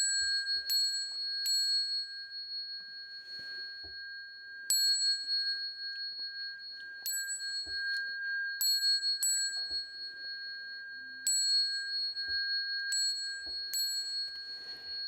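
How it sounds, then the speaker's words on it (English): A Buddhist ceremonial bell is struck repeatedly during a ritual, clear ringing strikes at irregular intervals, each leaving a long sustained shimmering tone, in an otherwise quiet room with no talking. "Ring the bell."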